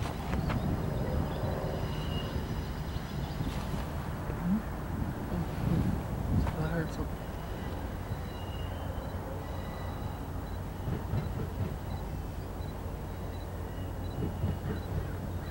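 An Amtrak passenger train passes through Niles, California, giving a steady broadband rumble and rail roar that holds throughout at moderate level, with wind buffeting on the microphone and no clear speech.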